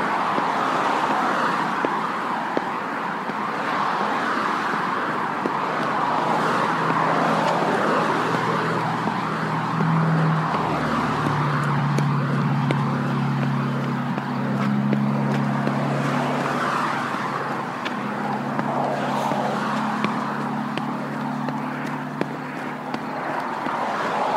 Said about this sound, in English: This is a noisy highway.